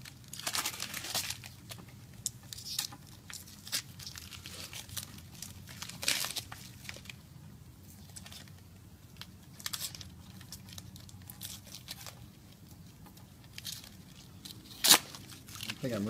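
Heavily taped gift wrapping being torn open, with repeated crinkling, ripping and crunching paper sounds in irregular bursts, fairly close, with a sharp loud tear near the end.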